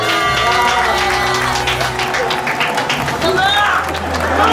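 Applause and cheering break out for the winner of a playful Squid Game 2–style game played among friends, with loud, steady clapping mixed with excited voices throughout.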